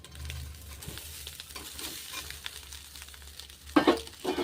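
A spoon scrapes and turns coconut rice in a pan with a soft sizzle underneath, quiet steady stirring that ends in a couple of louder clanks near the end.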